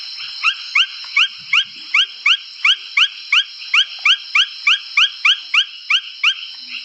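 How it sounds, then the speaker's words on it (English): True frog calling in a Singapore swamp forest: a long, regular run of about sixteen bright, nasal pulsed notes, evenly spaced and close, with a quiet background and no people talking. "I'll play one of the true frog calls anyway. This is actually one of my favorite sounds in Singapore."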